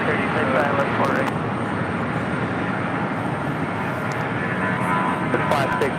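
An airliner engine roars at JFK airport, a loud, steady, close wash that fills the whole stretch. Radio voices talk faintly over it.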